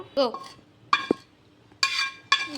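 A cooking pot of small fish simmered with potatoes is lifted off a home stove, giving a few sharp metallic clinks and clanks spaced by short pauses, close and clear, with a voice speaking briefly between them.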